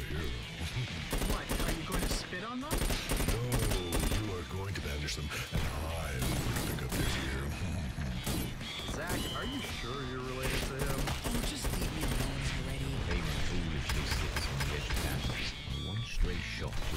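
Gunfire in the video game Dirty Bomb: dense, continuous bursts of rapid shots mixed with mechanical clanks and clatter, loud throughout, with voices talking over the action.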